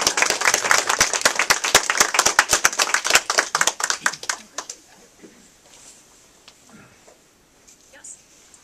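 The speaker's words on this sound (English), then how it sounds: "Don't we owe you applause?" A small audience at a book signing gives a short round of applause, crisp individual claps for about four seconds before tapering off, followed by quiet room tone and faint talk.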